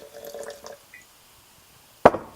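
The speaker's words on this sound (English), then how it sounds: "I'm going to put a little bit more water in there" Water poured into a blended raw sesame seed yogurt mush, faint small splashes early on, then quiet before a single sharp splash near the end.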